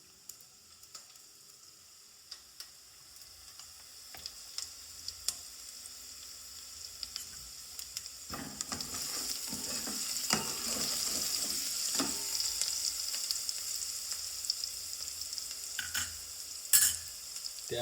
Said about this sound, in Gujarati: અડધી ચમચી હિંગ એડ કરી દઈશું